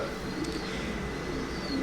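A racing pigeon coos softly in a low, murmuring call, close by amid steady background noise, with no talking.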